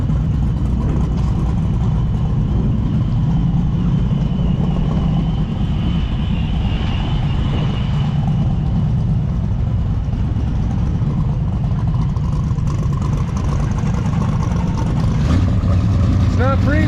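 Cars idle and rev at a Montana gas station, the last fuel stop for over 100 miles on a Big Sky Race Week drag-and-drive tour, with steady engine rumble throughout and people talking over it.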